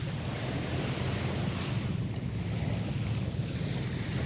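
Ocean waves wash and rumble around a boat, with wind buffeting the microphone in a steady, low roar; no one speaks.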